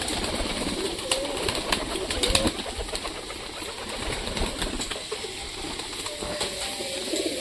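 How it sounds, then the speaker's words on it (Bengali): Pigeons gather on a roof to feed on scattered mustard seeds, giving soft repeated coos with a few brief wing flutters against a steady outdoor hiss. "সব কবুতর চালে আসে, ধীরে ধীরে নামতেছে।"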